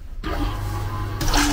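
A train's vacuum toilet unit kicks its water pump on abruptly, giving a steady whooshing hum with a watery rush, then shifts to a brighter surge near the end.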